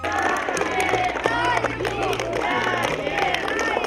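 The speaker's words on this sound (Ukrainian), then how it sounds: "А ще, звичайно, дружніми вигуками вітаємо" Friends and family at a certificate ceremony for talented children, a lively crowd with cheering and babble and scattered clapping, continuous and close throughout.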